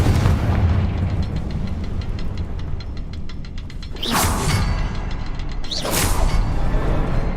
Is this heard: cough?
no